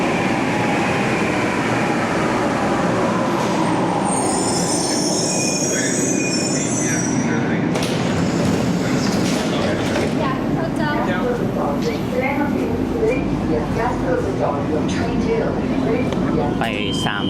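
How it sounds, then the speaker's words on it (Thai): A train in Italy rolls in with loud, sustained wheel squeal and rumbling rail noise, with people talking faintly underneath. "รถไฟมา"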